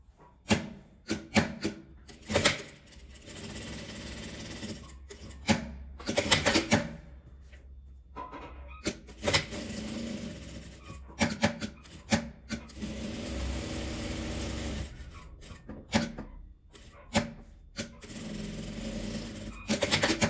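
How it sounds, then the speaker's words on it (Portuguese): A sewing machine stitches a fabric card holder in repeated bursts of rapid mechanical chatter, some short and some sustained for several seconds, separated by quiet pauses. "E vou costurar"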